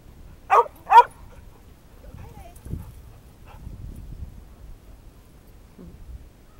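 Dogs playing with a ball: two sharp barks come close together near the start, followed by quiet shuffling and faint movement.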